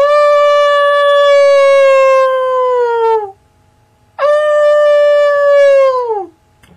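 A person imitates a dog howl without moving their lips, two long, loud, sustained howls with a tonal, siren-like quality, each ending in a falling slide, separated by a second of silence.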